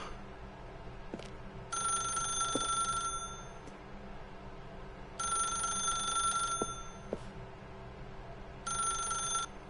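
A telephone rings in The Stanley Parable video game, three repeated bursts of bright electronic bell trills separated by pauses, moderately quiet over a low ambient hum.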